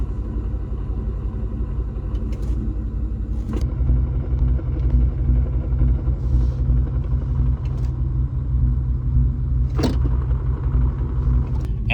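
A car's engine rumbles steadily at idle while the clutch pedal is pressed, the low drone close and constant with a slight shift partway through and a few faint clicks.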